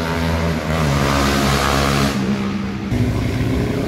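Loud, close engine roar of vehicles racing along a straight, wide road through tall grass, a sustained droning whine that shifts pitch midway as one passes or changes speed, with no talk.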